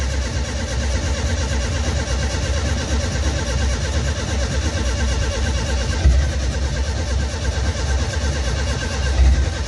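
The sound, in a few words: Nissan 280zx engine starting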